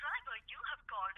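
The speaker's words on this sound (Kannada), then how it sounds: "ಅಪ್ಪ ಅವ್ನ್ ಫೋನ್ ಕಟ್ ಮಾಡ್ತಿದ್ದಾನೆ" A telephone line gives a short series of electronic beeping tones as a call is cut off, three quick, close, fairly faint bursts separated by brief gaps.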